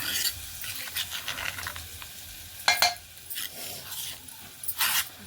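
Ground green tomatoes, chilies and garlic frying in hot oil with roasted onion, a steady sizzle with scraping stirs and a few louder clatters of the spoon against the pan.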